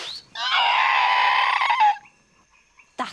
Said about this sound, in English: That's the noise of a three-toed sloth.